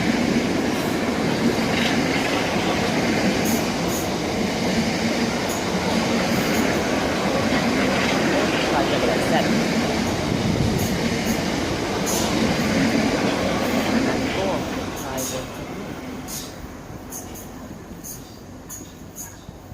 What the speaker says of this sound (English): the 1146 Southeastern service from London Charing Cross to Gillingham